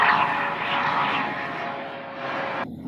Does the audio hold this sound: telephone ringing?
no